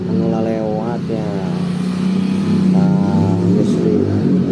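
Motorcycle and car exhausts roar past on a roadside, engines revving loudly and continuously while voices talk over the traffic.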